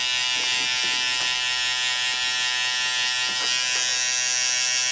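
A powerful electric hair trimmer buzzes steadily and close while tapering a neckline during a clipper haircut, with a constant high whine and faint scraping strokes throughout.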